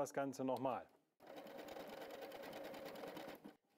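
A W6 N 5000 Exklusive sewing machine stitches a buttonhole at a steady, fast, even whirr that runs for a few seconds, following a short burst of speech at the start.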